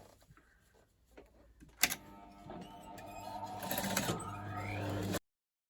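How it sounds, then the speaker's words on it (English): A sewing machine stitches in the ditch on a boho-style skirt, starting with a sharp clack and then running in a rising, steady mechanical whir for several seconds before cutting off abruptly. "I'm going to stitch just there where they call it stitching in the ditch"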